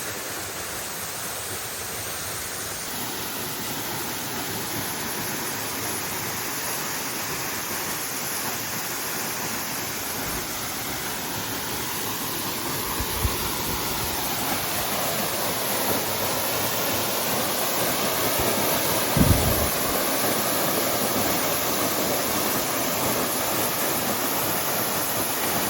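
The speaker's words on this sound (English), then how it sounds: "This waterfall isn't deep at all." A waterfall in the Northern Range rushes in a broad, continuous roar, steady and close throughout with a slight swell toward the end, no talking.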